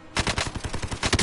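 Rapid automatic gunfire in Call of Duty: Warzone, a tight burst of roughly a dozen loud, evenly spaced shots running continuously with no talk over it.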